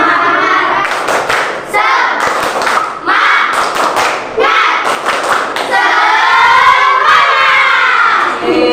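A school class performs the 'tepuk semangat' clapping chant: loud, close bursts of rhythmic group claps and thumps alternate with children shouting the chant together, ending in a drawn-out collective cheer.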